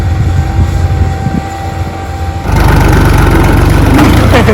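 A tractor engine runs at a tractor contest, a loud, low, steady rumble with a pulsing throb that swells sharply about halfway through and holds close and strong to the end.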